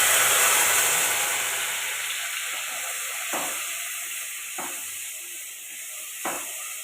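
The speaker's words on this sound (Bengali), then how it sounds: "এরই মধ্যে দেবো মশলাটা দেওয়ার সঙ্গে সঙ্গে এখানে একটুখানি জল দিয়ে দেবো যাতে পোড়া না লেগে যায়।" Spice paste and a splash of water hitting a hot pan for shahi aloo dum, a loud close sizzling hiss that slowly fades, with a few soft clicks of stirring.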